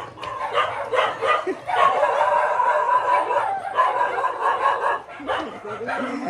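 Several house dogs bark and yip excitedly at a newcomer during a Gauri Ganpati visit, in close, overlapping bursts mixed with people talking.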